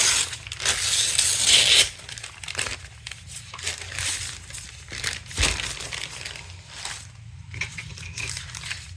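Paper being torn by hand for a handmade journal collage, a long rough rip followed by several shorter tears and crinkles, close and fairly loud with no talking.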